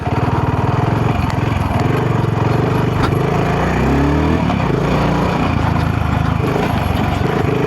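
BSA Scrambler 650 motorcycle engine and exhaust running steadily and loudly up close, a continuous low rumble with a slight pitch shift midway, no voices.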